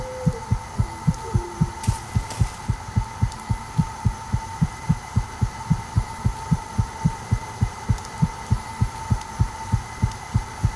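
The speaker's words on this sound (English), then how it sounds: "Our heartbeat's slowing down." A heartbeat in the video game 1916 The Unknown War thumps low and steady, about two beats a second, over a constant electronic hum with no talk.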